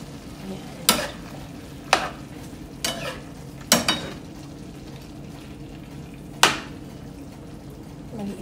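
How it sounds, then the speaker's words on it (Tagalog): Pork is stirred in a small, crowded frying pan, a steady low sizzle broken by several sharp scraping and clanking strokes of the utensil against the pan, close, with a voice talking briefly. "Maliit kasi ang kawali ko. Ang kawali malaki dito. Kaya, ang hirap mahalo."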